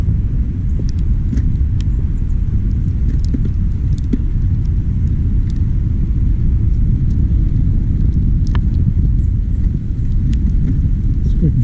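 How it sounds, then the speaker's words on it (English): A Trek 4300 mountain bike's rear wheel spins steadily with a low, constant whir as its gears shift, and faint irregular clicks and ticks sound throughout. "So we can show you some shifting here, the rear wheel."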